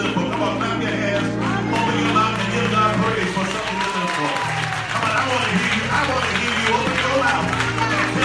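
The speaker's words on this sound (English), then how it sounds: "Come on, clap your hands." Congregation clapping hands at a Sunday church service, a steady, dense wash of claps filling the room alongside music and voices throughout.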